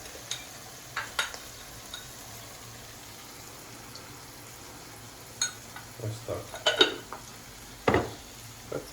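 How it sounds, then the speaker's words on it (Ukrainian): Chanterelles and potatoes are stirred in a pan, giving sparse scrapes and clicks of a spoon against the pan over a quiet background, with a brief cluster of louder knocks near the end. "все діло перемішуємо. Перемішуємо це все гарненько"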